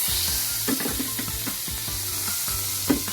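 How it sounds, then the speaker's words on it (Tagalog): Butter with a little olive oil sizzling in a hot pan, a steady bright hiss with light popping and scraping clicks throughout, close and even in loudness. "At pininitan na nga natin yung butter. Pero may konting olive oil ito."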